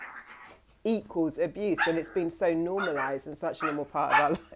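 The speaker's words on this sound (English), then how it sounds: "I have a doggy going crazy in here, so excuse the noise" An excited indoor dog barking in the background, sharp yips under a woman's close, continuous talking.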